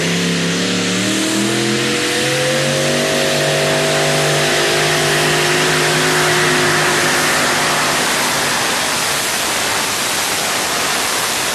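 Kansa pulling tractor at a tractor pulling Euro-Cup in Herning roars loudly into its run, engine pitch climbing and then holding as it accelerates, a dense, powerful sustained blare near and dominant.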